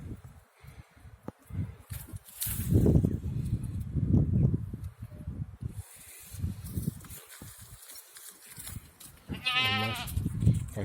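Sheep bleat repeatedly amid rustling and shuffling, with one sharp, wavering bleat standing out near the end.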